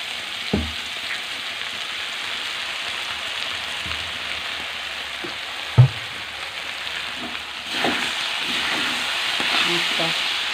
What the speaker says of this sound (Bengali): তো এর জন্য আঁচটা কমিয়ে রেখে আমি ভাজাটা ভাজছি।